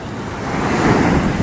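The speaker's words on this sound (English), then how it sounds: "these waves are so strong" Strong ocean waves surge onto a beach, a loud, close broadband roar that swells toward the end, with no voices.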